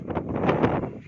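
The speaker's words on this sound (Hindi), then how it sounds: "देख रहे हैं आप दोस्तों किस तरह तेज हवा बारिश" Strong wind gusts buffet the microphone in a low, rumbling roar that rises and falls in quick surges, loud and close, during a rainstorm.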